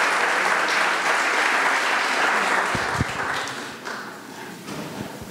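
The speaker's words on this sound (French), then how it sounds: "Donc on peut applaudir tout le monde hein" A crowd applauds steadily at a meet-up, dense clapping that holds strong and then tapers off toward the end, with a few louder individual claps near the close.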